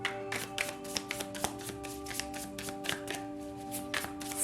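Tarot cards being handled and shuffled close by, with a string of quick, light taps and papery flicks in an uneven rhythm over a faint steady hum.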